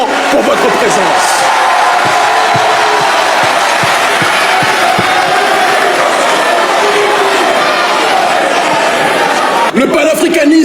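A large crowd at a pan-African youth patriotic gathering roars with dense, sustained applause and cheering, loud and continuous throughout, with voices mixed into the din and a brief drop near the end.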